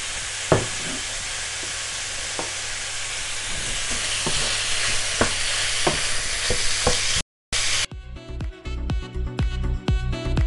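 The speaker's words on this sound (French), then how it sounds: "Je rajoute ma viande hachée. Et je fais revenir le tout." Minced meat sizzles and fries steadily in a pan with a loud broadband hiss, punctuated by scattered scraping stirs; near the end the sizzle cuts out briefly and resumes with rapid clattering stirring.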